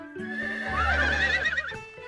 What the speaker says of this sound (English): Our horses sure are noisy today.